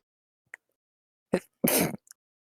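A single sharp sneeze bursts out of near silence, preceded by a short breathy intake, with a tiny click just after.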